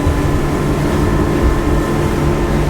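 A Tesoro T40 motorboat under power at sea, its engine droning loud and close with steady hull and water rush throughout, no talking.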